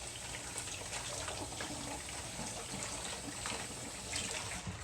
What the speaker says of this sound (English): Let me wash my hand first.